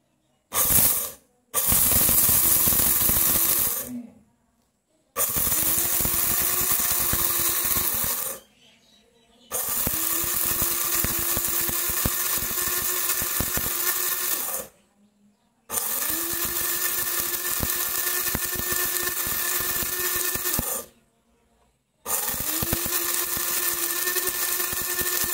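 A mini mixer grinder grinds rice in four loud motor bursts of a few seconds each, steady whirring with a rattling edge, separated by short silent pauses.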